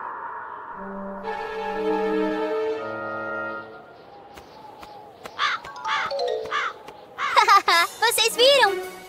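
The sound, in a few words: bird calling in a cartoon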